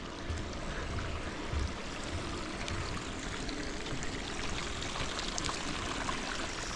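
Steady, continuous trickle and splash of water in a small garden fish pond with Buddha statues, a soft even rush with no talking.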